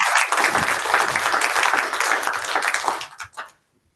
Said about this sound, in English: give a big clap to all speakers